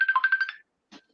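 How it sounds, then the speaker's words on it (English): A phone ringtone plays a quick run of about seven bright pulsed tones for half a second, close and clear, then a short separate burst of noise follows after a pause. "Phone ring."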